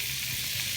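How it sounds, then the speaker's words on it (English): Food sizzles on a hot Salt Rock slab grill, a steady, close hiss of frying with no break for the whole short moment. "you can hear it sizzling"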